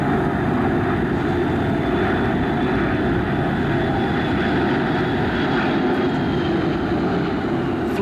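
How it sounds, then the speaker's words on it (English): An American Airlines airliner on flight 557 from Chicago, the first such flight into Duluth, produces a steady, loud, unbroken engine roar throughout, with no voices over it. "Flight 557 out of Chicago, American Airlines' first flight into Duluth"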